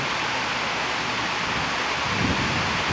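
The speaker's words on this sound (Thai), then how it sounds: "ทั้งลมทั้งฝน" Steady, loud wind roars and heavy rain hisses continuously, a dense wash of noise with no voices.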